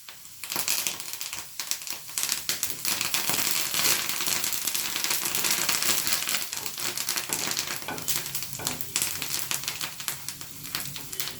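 Green chilies and curry leaves fry in hot oil for mango pickle, producing a loud, dense crackle and spatter that runs on continuously with no voices.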